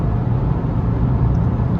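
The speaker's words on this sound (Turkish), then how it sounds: "o rüzgar sesi, o lastik sesi," Steady broadband road roar inside the cabin of a Toyota Corolla Hybrid 1.8 while driving, a continuous dense rumble of wind and tire noise with no voices.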